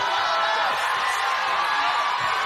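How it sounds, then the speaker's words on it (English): A boxing crowd in a hangar venue cheers and roars steadily after a ten-round women's professional bout ends, a dense, continuous wash of voices with no pauses. "The crowd on their feet."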